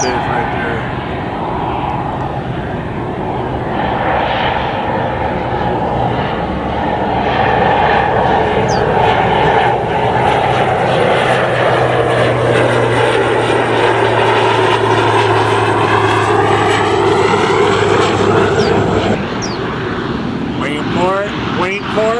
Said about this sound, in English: We got a plane that's flying right at us here.